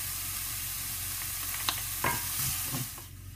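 Onion and garlic frying in a pan for a kefta tajine, a steady close sizzle with a few scraping stirs and light clicks of a utensil.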